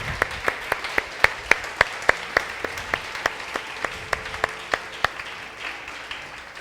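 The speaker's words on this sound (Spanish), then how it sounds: "Dale ese aplauso al Todopoderoso." A church congregation claps in a steady, even rhythm, with sharp, regular claps that stay close and fairly loud before fading out near the end, with no talking.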